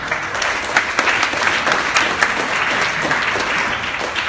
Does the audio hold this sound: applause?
yes